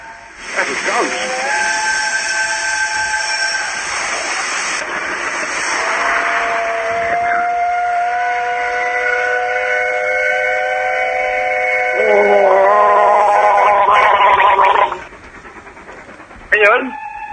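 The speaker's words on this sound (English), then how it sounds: "Yeah, steam train." A steam train sound effect plays loudly as a sustained, layered whistle with shifting pitch over a hissing rush, ending abruptly near the close before a short final burst.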